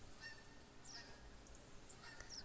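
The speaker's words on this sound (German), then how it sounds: "Und wir hören die nächsten Gänse." Geese honking in the hunting game theHunter, several faint, distant calls scattered over a soft outdoor background.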